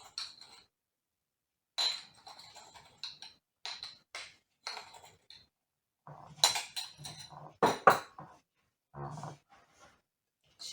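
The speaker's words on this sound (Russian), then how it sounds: "все хорошенько перемешиваем" Scraping, clinking strokes of a utensil stirring shortcrust dough with baking powder, salt and sugar in a bowl, in irregular bursts with short pauses, close by and moderately quiet.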